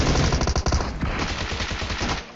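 Rapid automatic gunfire in PUBG Mobile, a dense loud burst of shots at the start that trails into quicker, fainter rattling fire, with no speech.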